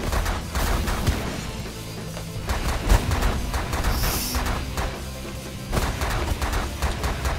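Repeated heavy cannon blasts from a Giga Cannon in The Last Federation, a steady barrage of booming shots and crashes with one sharp peak midway and a bright hiss in the middle, no speech present.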